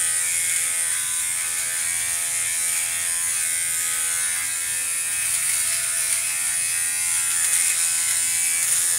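An electric nose hair trimmer hums loudly and close by without a break, a steady high-pitched buzz that shifts slightly as it moves around inside the nose, with no voices over it.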